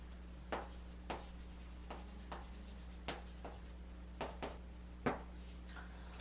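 Pen or pencil strokes on paper as a sentence is written out by hand: short scratchy bursts at irregular intervals, quiet and close, over a steady low electrical hum.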